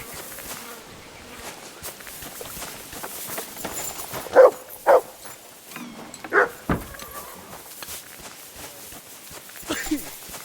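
A dog in the video game Kingdom Come Deliverance 2 gives a few short barks midway, moderately loud over a steady buzzing of insects and soft ambient game sounds.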